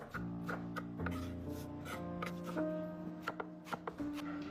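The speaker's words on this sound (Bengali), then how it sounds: "এদিকে লালচে বাঁধাকপি কুচি করে কাটছেন উনি" Knife chopping red cabbage into fine shreds on a board, a quick run of crisp close cuts with short pauses, some cuts ringing a little, while a steady tonal drone runs underneath.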